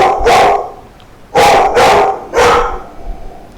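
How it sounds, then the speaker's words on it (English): Dogs bark at passing cars: four loud, close barks in three bursts, one at the start and a quick double bark before a final one, with quiet gaps between. "we have dogs, apparently, that are barking because cars are driving by"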